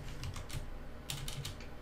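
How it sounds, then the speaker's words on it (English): Two quick bursts of keys clattering on a computer keyboard, close and fairly quiet, separated by a short pause. "Because as I was typing,"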